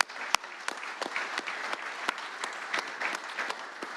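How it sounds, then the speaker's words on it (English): Fans at an MTSU women's basketball press conference applaud in a steady, dense round of clapping with a few sharper individual claps standing out. "I'd like to give every one of you guys a round of applause"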